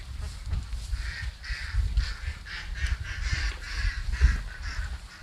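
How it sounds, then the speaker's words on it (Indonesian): Pekin-type ducks, laying ducks and Muscovy ducks at a duck farm in Aceh, quacking and honking in a steady overlapping chorus at close range, with low rustling and movement underneath and no talk. "Nah, ini bebek packing. Nah, itu bebek petelur. Dan ini entok."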